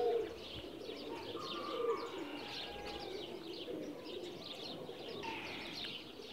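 A pigeon coos softly in low, repeated throaty calls against a faint, murmuring background.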